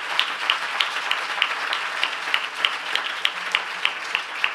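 An audience applauds the finalists of a photo contest at a public event, with a dense, even patter of many hands and a regular rhythmic clap standing out, sustained throughout without talk.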